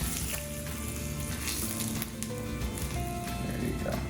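Hot oil sizzles over steamed fish topped with ginger and vegetables, a soft, steady crackling hiss heard close but fairly quiet, with a few faint tonal sounds in the background and no speech.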